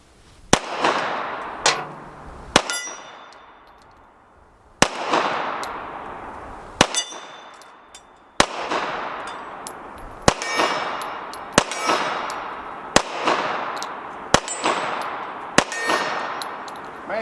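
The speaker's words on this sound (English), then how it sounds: "Man, it shoots like a dream so far." An STI Apero 2011 pistol in .45 ACP fires shots that ring off steel targets, about a dozen sharp reports each followed by a bright metallic clang and a long ringing decay, spaced at a steady rhythm, loud and with no talking.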